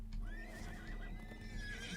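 A horse in the Dungeons and Dragons Online video game gives a loud, drawn-out whinny over a steady clip-clop of hooves, with continuous game music and ambience underneath.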